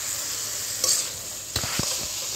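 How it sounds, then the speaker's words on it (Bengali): Chicken sautéing in a pan for curry, a steady close sizzle with a few quick stirring scrapes and knocks of the spoon. "এবার চিকেনটা দিয়ে আর কিছুক্ষণ কষাবো"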